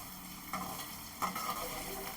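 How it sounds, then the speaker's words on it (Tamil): Ingredients for Mangalore Yeti Gassi, a coconut prawn curry, frying in oil in a pan, giving a steady close sizzle with two brief louder bursts as they are stirred. "நான் எல்லாத்தையும் உங்களுக்கு இந்த மாதிரி ஃப்ரை பண்ணிட்டு நம்ம உங்களுக்கு காமிக்கிறேன்"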